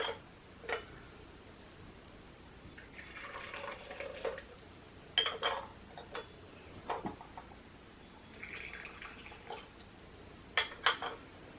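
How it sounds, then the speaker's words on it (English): Hot water at 190 degrees poured from a large kettle into small gaiwans for a Tieguanyin oolong tea tasting, faint pouring hisses in short bursts with light porcelain clinks between them, quiet and close with no talk. "This is going to be a bit of a trick to fill these tiny little gawans with this giant kettle."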